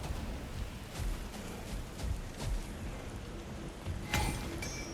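Steady rain falls during a storm in the video game God of War Ragnarök, a dense continuous patter with a few louder surges, heard alone without speech.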